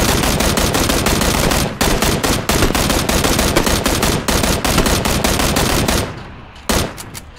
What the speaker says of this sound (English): I took so many rapid fire shots